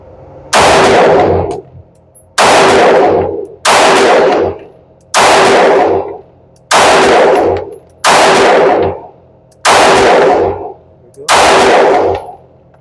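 A Sig Sauer P320 X-Five DH3 9mm pistol fires at an outdoor range: eight loud, close shots spaced about one to two seconds apart, each followed by a brief ringing decay.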